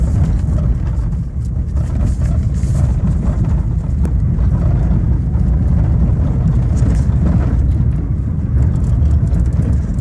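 A vehicle drives through a sandy desert wash in Baja, giving a steady, loud rumble of engine and tire noise with bumpy low-end roar throughout and no talk.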